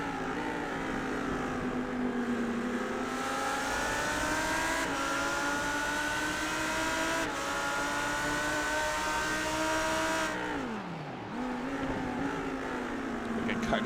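Race car engine in a championship finale, droning steadily with rising and falling pitch, then briefly cut with a sharp dip in tone as the driver saves fuel, before picking back up.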